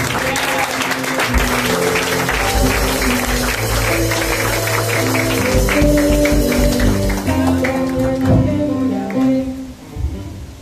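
A church congregation applauds loudly and steadily, a dense, sustained clapping from many hands close around, easing off near the end.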